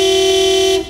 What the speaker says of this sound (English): Beeping won't make the cars go any faster, Daddy Pig.